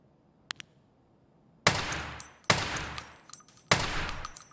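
Gunfire in a first-person shooter game: two faint clicks, then three loud blasts with ringing metallic tails, spaced about a second apart and heard without talk.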